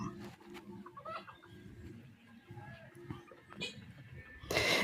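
Desi chickens cluck around a poultry farm where birds are being weighed and loaded into crates, with scattered clucks and calls under ongoing human talk and handling noise, ending in a louder burst.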